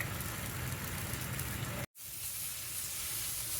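Meat fries gently on low heat in its own rendered fat, giving a soft, steady hiss that stops for a moment partway through and then carries on.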